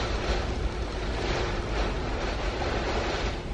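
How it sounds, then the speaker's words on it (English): Hurricane wind roars continuously against a house and its windows, a dense, loud, unbroken rush with no voices. "That wind still just whipping against the house and the windows."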